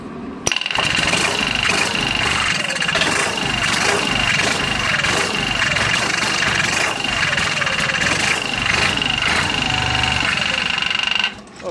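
An Onan 6.5NH/T260G generator engine cranks over dry, without fuel, on its first startup: a steady, loud mechanical churn with a thin whine that runs unbroken for about eleven seconds before it cuts off.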